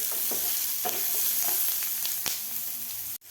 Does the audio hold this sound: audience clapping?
no